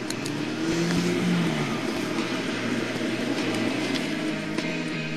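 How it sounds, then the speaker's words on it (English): A steady, loud engine roar fills the whole stretch, a car travelling at speed with a constant drone and no pauses. "it seemed by the noise of the engine that it was travelling fairly fast"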